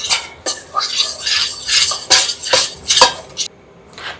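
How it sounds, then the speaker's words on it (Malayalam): Cornflour mixed in a bowl for a banana pudding, with a spoon scraping and clinking in uneven, fairly loud strokes close by, ending abruptly. "ഇനി ഇത് നമുക്ക് നല്ലപോലെ മിക്സ് ചെയ്ത് മിക്സ് ചെയ്ത് നല്ലപോലെ മിക്സ് ചെയ്യാം"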